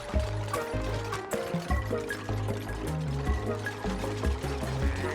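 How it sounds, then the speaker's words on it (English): Water steadily filling and pouring in the colony-building game Oxygen Not Included, a continuous liquid trickle heard under layered game music with no talk. "look how fast this water is filling up"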